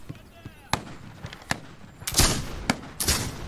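Sharp gunshots from the video game This Land Is My Land, four or five loud cracks spaced irregularly, the later ones followed by short echoing tails over a faint game background.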